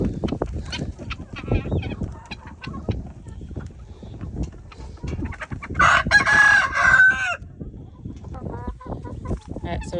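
Chickens cluck and squawk in a dense, continuous chorus on a cyclone-hit farm at Patoka, Hawkes Bay, New Zealand, with a loud rooster crow rising mid-way and guinea fowl calls mixed in, all close and busy.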